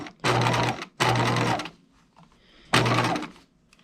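A sewing machine stitches a dress seam in three loud, steady runs of about half a second to a second each, with short pauses between them where the stitching stops briefly, as in backstitching.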